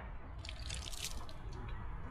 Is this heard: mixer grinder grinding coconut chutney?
no